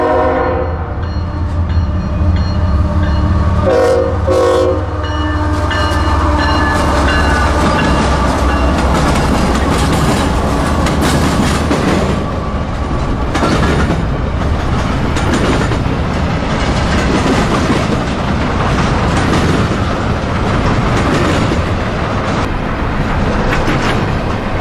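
A hotshot intermodal freight train passes at Cordele, Georgia, loud and close, with a sustained horn blast early on followed by a steady rumble and rolling clatter of cars.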